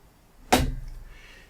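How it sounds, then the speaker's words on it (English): Hot coffee pours briefly into a small cup in one short splashing burst that quickly fades, close and alone in a quiet room. "shall we pour a small coffee?"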